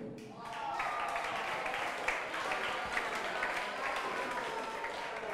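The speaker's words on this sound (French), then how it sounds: "Maintenant, applaudissez-le." An audience claps for a prize winner at an award ceremony, a continuous even wash of applause lasting several seconds, fairly loud and steady without pause.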